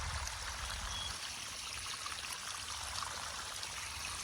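Water rushes through irrigation pipes in a groundnut field, a steady close gushing hiss with a low rumble that stays even throughout.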